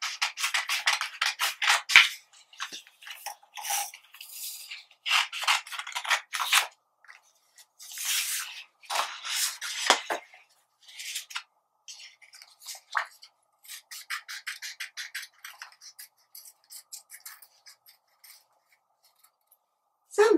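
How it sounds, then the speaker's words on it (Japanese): Scissors cutting sheets of paper along a drawn line, bursts of crisp snipping and slicing in uneven runs with brief pauses, close and moderately loud, no voices heard. "線に合わせて切っていきます。"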